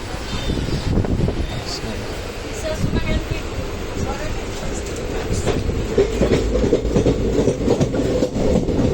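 Koyna Express train rolling into a station, a steady close rumble of railcars with rhythmic wheel clatter and low-frequency rail noise that builds slightly toward the end, with occasional metallic squeals and a voice faintly underneath.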